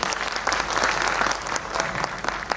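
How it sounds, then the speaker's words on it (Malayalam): Energetic applause at a Malayalam movie trailer and audio launch event, a close, loud burst of many hands clapping with sharp individual claps standing out over the dense crowd. "ഒരു വലിയൊരു കൈയടി തന്നെ കൊടുത്തേ."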